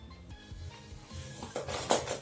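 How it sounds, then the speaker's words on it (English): Several quiet metallic snips and clicks of secateurs trimming flower stems, irregularly spaced, with faint rustling between them. "Sorry about the noise of the secateurs."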